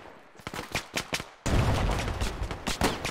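Phosphorus grenades going off in a World War II shooter game set at Pegasus Bridge. A burst of sharp cracks comes first, then a loud, sustained rumbling blast with more crackling pops layered over it.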